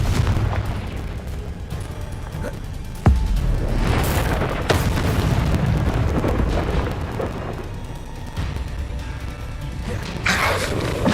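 Confringo explosive fire spell blasts in a Harry Potter video game, booming cracks and crashes over a continuous rumbling battle din, with a sharp hit near the start and more bursts toward the end.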